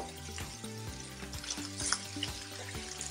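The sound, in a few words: onions frying in cooking oil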